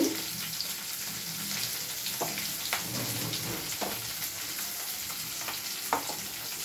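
Chopped onions fry in a pan for an eggplant curry, producing a continuous crackling sizzle with occasional scraping stirs, close and fairly loud.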